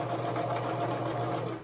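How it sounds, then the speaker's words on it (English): A home sewing machine stitching quilt pieces runs steadily and close, a continuous whirring hum with fast rhythmic needle pulses that cuts off at the end. "hopefully the sewing machine isn't too loud."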